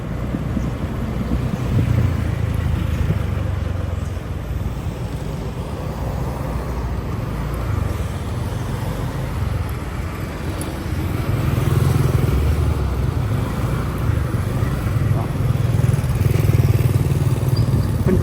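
A motorcycle rides a loop in front of Wat Inpeng temple in Vientiane, its engine a steady, fairly loud rumble mixed with road and traffic noise that swells toward the end.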